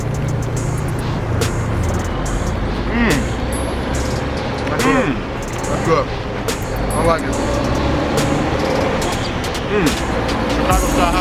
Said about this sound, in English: We got a truck behind us